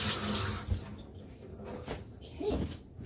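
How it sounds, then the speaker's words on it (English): Kitchen tap water runs over vegetable pieces being rinsed free of seeds, a close, fairly soft splashing flow with a few light handling knocks. "so I just give it a quick little wash."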